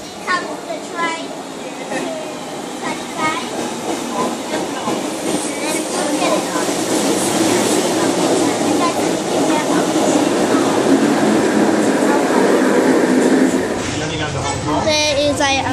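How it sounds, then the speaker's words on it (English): A Disneyland Resort train pulls into the station with a steady, building rumble and rattling wheels, while crowd chatter and children's voices carry throughout. "Comes the train."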